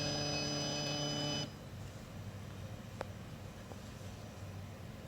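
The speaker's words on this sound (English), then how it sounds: "Red light, buzzer makes a different sound." An electronic lock buzzer gives a steady buzz with a bright harmonic tone for about a second and a half, signalling closing with a red light, then cuts off, leaving low hum and a faint click.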